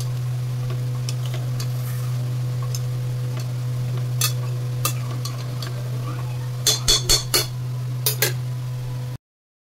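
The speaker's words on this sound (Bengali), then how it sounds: "আর একটু চিনি, জাস্ট ব্যালেন্সের জন্য চিনিটা দেবো। ভালো করে নাড়তে থাকবো।" Butter chicken in a pot stirred with a metal spoon after sugar is added, a low steady sizzle beneath a run of sharp scraping clinks that grows busier toward the end, close and fairly loud, with no talking.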